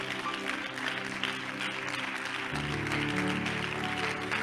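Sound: congregation clapping hands in praise

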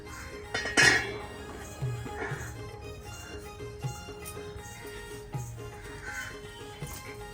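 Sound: iron griddle placed on the stove

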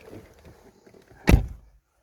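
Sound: Ford Focus car door opened by keyless entry system

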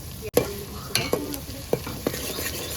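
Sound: frying onions with green chillies in a pan

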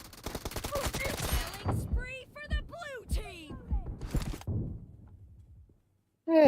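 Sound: gunfire in a video game

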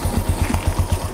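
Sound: used motorcycle engine revving

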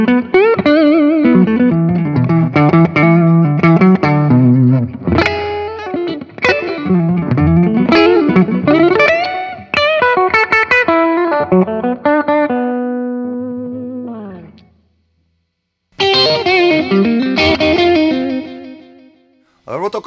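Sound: electric guitar on Music Maker EA Pro neck humbucker

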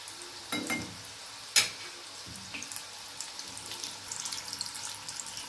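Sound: snack deep frying on medium gas

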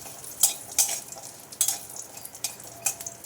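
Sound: lentil dumplings frying, oil spattering from water

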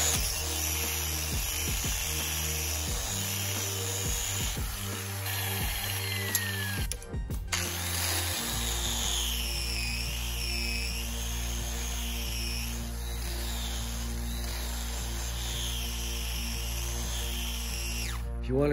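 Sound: polishing wheel buffing aluminum

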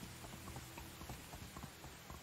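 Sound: horse hooves while riding in video game Medieval Dynasty

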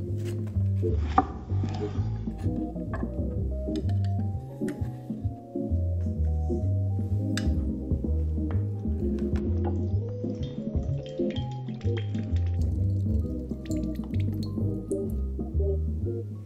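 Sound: squeezing fresh lemons by hand for juice

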